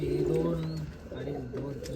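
Imported UAE racing pigeons coo in a loft in Nashik, giving low, throaty, rolling calls up close. Faint background voices sit underneath.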